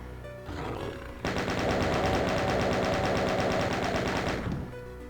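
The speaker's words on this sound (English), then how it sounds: "There was a chain gunner after me somewhere." A chaingunner enemy in the Doom video game fires a long, loud, continuous burst of rapid machine-gun shots, heard alone without talk.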